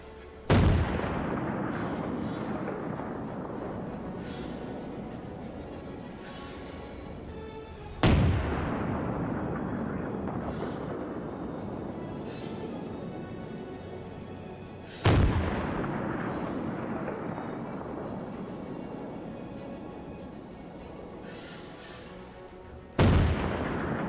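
Artillery firing in the video game Arma 3: four heavy, booming blasts spaced roughly seven to eight seconds apart, each loud and sharp, then rolling away in a long fading rumble.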